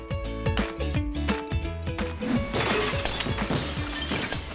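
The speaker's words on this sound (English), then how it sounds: "That's the sound of our glass breaker screen smashing up the jars," A glass breaker screen at a materials recovery facility smashes glass jars, bottles and containers, producing a loud continuous clatter of shattering glass over heavy rhythmic machinery thumps.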